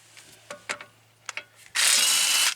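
A power tool fitted with a 15mm socket spins off the lug bolts on a Smart car's front wheel during a brake and rotor job: a few light clicks and taps, then a loud, steady whirring buzz lasting nearly a second.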